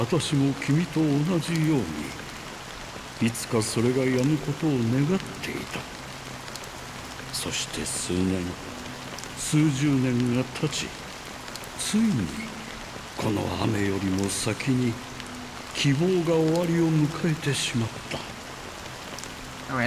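Rain pours in the video game Honkai: Star Rail as a steady, even hiss running throughout, with a person talking intermittently over it.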